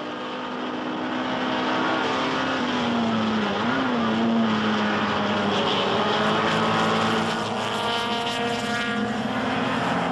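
Vintage racing cars at the Goodwood Revival roar past, a loud sustained engine drone with rising and falling pitch as the cars speed by, steady for most of the ten seconds before easing slightly at the end.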